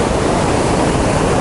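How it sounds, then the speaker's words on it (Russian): Sea waves break and roar steadily on a beach by a battered breakwater at Adler, Sochi, a loud continuous surf wash close to the microphone with some wind. "Смотрите, какая волна идет."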